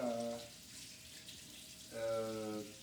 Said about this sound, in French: l'eau la plus chaude possible en sortie de robinet